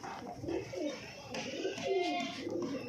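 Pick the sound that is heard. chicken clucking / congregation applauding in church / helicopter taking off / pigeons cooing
pigeons cooing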